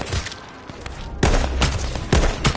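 Gunfire in the PS4 video game H1Z1, several loud close shots in quick bursts with rumbling echoes, spaced across a few seconds.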